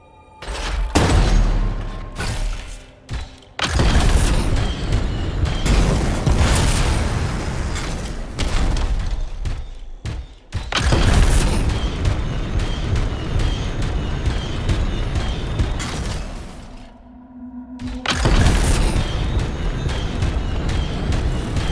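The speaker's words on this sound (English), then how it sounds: "It'll be a contained explosion." Canisters explode in the video game Anthem, sending a dense run of loud booms and bursting blasts through most of the stretch, broken by a few short quieter gaps and a brief tonal lull near the end.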